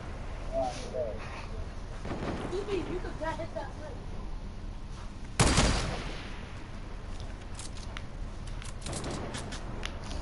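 A single sharp sniper shot cracks out about midway through a video game match, standing out above a steady backdrop of game ambience and faint voices.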